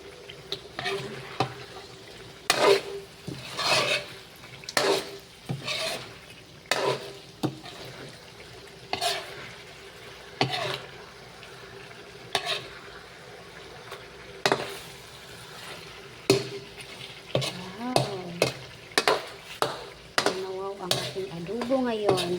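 Chicken adobo is stirred in a frying pan, with repeated scraping strokes over a soft sizzle, close and fairly quiet, and a voice speaks intermittently.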